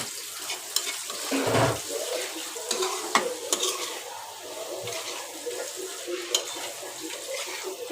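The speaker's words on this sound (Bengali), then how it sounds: "তো আমি এখানে আমার মাংসগুলো দিয়ে দিচ্ছি" Chunks of chicken with bones go into a pan of turnips, followed by close, steady stirring and soft sizzling with scraping clatter and a few sharp clinks against the pan.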